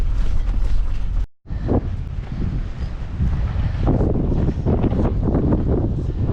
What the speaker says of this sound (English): It's cleared up, but boy, has it gotten windy.